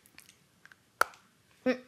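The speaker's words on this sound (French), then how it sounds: "Il y a un bon petit croquant, le petit claque appréciable de la tablette de chocolat quand on croque dans le carreau." A square of milk chocolate from a vegan chocolate bar snapped between the teeth, heard as one sharp, close crack followed moments later by a short burst of chewing noise, with small mouth sounds around it in a quiet room.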